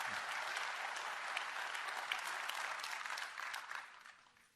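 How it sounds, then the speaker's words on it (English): An audience at a tech conference broadcast applauds a guest speaker, a broad, continuous clatter of many hands that stays level before tapering off toward the end. "Please, a round of applause for Dave."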